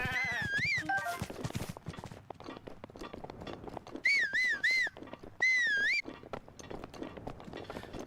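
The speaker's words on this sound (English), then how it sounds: "I tried doing the whole whistling and running thing" Link whistling in The Legend of Zelda, clear wavering whistle tones repeated in three short phrases over the rapid clip-clop of a horse and footsteps, loud and close.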